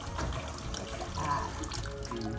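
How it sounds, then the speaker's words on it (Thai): Tap water runs steadily as sticky rice is rinsed in a bowl, giving a close, even splashing wash with faint drips and no speech. "อันนี้ล้างข้าวก่อนเนาะเพื่อที่จะเอาข้าวข้าวเหนียวไปผัด"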